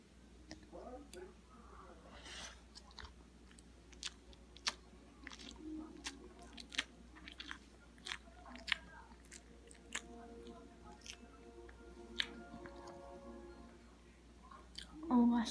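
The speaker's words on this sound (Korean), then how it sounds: "이 속까지 먹어볼게요 한번" Soft, close chewing and biting of a fresh homemade cupcake, eaten down to its moist centre, with faint mouth clicks and quiet speech running underneath.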